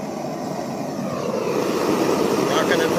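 The propane burner of a flat-pack kiln, fired for a bisque firing, is turned up: a steady broadband roar that grows gradually louder and fuller over a few seconds, close by.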